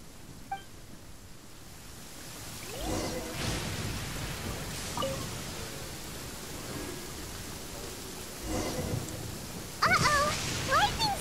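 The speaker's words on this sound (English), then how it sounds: "Uh-oh! Lightning storm!" Lightning storm in Genshin Impact, with steady rain hiss and several rumbling thunder claps rolling in at intervals, the loudest crack arriving near the end.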